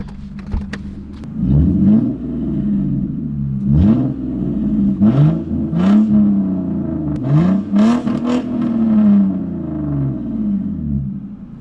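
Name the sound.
car revving with straight-pipe exhaust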